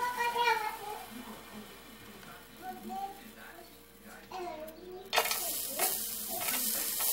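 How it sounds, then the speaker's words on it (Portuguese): Minced garlic sautéing in a pan as the first step of a seasoned ground beef dish, with a faint background sizzle that swells into a bright, steady frying hiss near the end, while voices murmur in the room. "Primeiro eu coloco o alho, uma refogadazinha. Refogo o alho bem."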